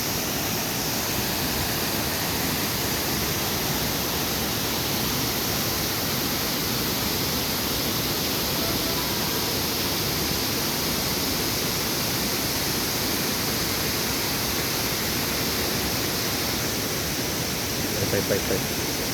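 Dua Unduk waterfall at Cidahu, a dense and constant roar of falling water, loud and close and steady throughout with no break.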